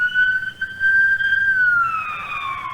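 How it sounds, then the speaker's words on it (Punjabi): A fire brigade siren wails loudly and nearby in a single steady, high tone that slowly slides lower toward the end, with no talking over it. "ਤੁਹਾਡੇ ਪਿੱਛੇ ਮੇਰੇ ਖਿਆਲ ਨਾਲ ਉਹ ਫਾਇਰ ਬ੍ਰਿਗੇਡ ਹੈ ਜੀ"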